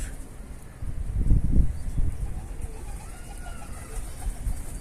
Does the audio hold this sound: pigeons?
yes